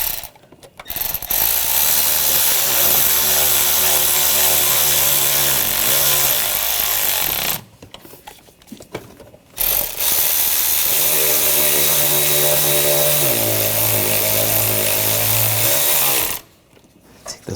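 A power tool drives and tightens bolts on the starter of a 2004–2012 Chevrolet Colorado 3.7L, in two long, loud, close whirring runs with a brief gap between them.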